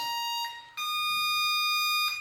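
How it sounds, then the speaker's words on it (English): Loud, steady electronic beeps from a Traxxas M-41 RC boat's electronics running a system check: a short tone, a brief drop, then a long sustained high-pitched beep with a shift in tone at the end, no talking. "That last beep is just series of 3, is just a system check to check that's running okay"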